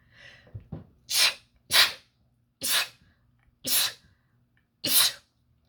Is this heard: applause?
no